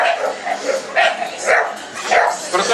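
Dogs bark in short, repeated yaps at an indoor dog show, close and fairly loud, over a steady crowd murmur.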